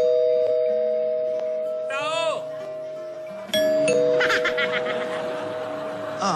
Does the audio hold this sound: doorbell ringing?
yes